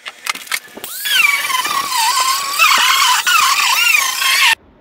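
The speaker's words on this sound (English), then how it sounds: "grinder should do it." A power grinder strips liquid nails adhesive from the floor of an EZGO golf cart during a DIY rebuild. It sounds like a loud, close, sustained whine with a wavering pitch that cuts off abruptly after a few handling knocks.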